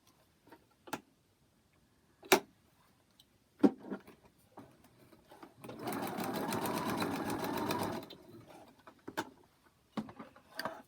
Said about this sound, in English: I'm going to sew from there, the dotted line, out 2 stitches into number 3